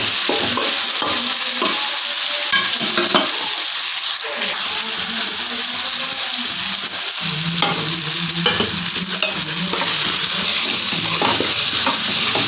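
Close, loud frying and stirring in a pan with rock salt and tamarind, for a drumstick-leaf chutney, gives a constant hissing sizzle with scraping spoon strokes throughout and a brief faint voice in the background.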